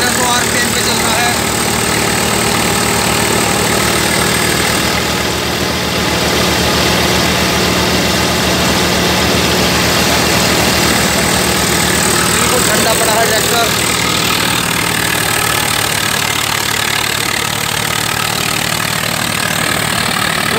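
A Swaraj 855 FE tractor engine runs steadily at 1500 rpm while driving a grain thresher, giving a loud, continuous heavy rumble and machinery drone that holds up through the whole stretch, with the thresher's clatter mixed in.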